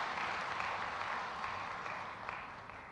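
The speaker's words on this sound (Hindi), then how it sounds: "मैं चाहूँगा कि दोनों के लिए तालियां बजाकर हम उनका अभिनंदन करें।" An audience at a Women's Day event in Bhopal claps steadily and densely for about three seconds, a continuous wash of applause that fades slightly toward the end.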